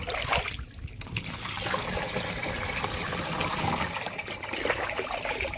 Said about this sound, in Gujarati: આવી રીતના આપણે નીર અને ચોખ્ખું પાણી પોપમાં નાખી દઈશું